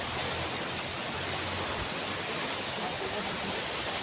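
A waterfall among trees sends up a constant, dense roar of rushing water that fills the whole clip at an even level, with no other distinct sounds.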